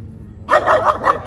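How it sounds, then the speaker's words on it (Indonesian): A small, aggressive dog barks close and loud, a quick burst of three or four sharp yapping barks after a moment of quiet. "dia masih gonggong enggak?"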